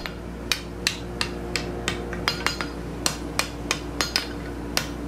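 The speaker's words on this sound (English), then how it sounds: "I'm just kind of pushing the material around with the hammer." Steel hammer tapping metal stock on a homemade no-weld scroll bending jig, a dozen sharp metallic strikes spaced irregularly over a steady low hum, moderate and close with no talking.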